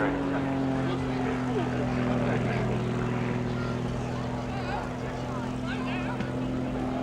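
An RAF Tutor propeller trainer performing a flying display at the RAF Cosford Air Show 2018 gives a steady, droning engine hum that holds even and fairly loud throughout.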